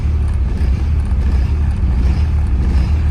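A Mercedes diesel engine idles while warming up, a steady low rumbling drone that is loud and close and holds constant throughout without any voices.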